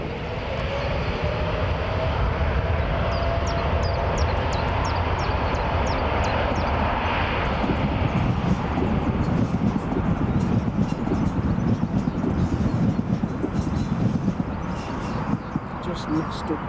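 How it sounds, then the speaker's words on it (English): A Boeing 787 Dreamliner airliner departs Newcastle Airport with a loud, continuous broadband engine roar that holds steady throughout and thickens slightly toward the end. "the Dreamliner to Mexico"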